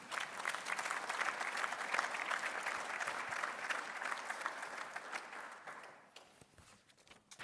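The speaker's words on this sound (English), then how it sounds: "let's give ourselves another resounding round of applause" Sustained, dense applause from a large audience at a formal bi-national commission opening ceremony, steady and loud for most of the stretch before thinning out and tapering near the end.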